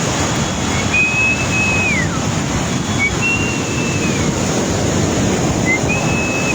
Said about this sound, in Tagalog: Katawag lang ng hangin para malakas ang alon.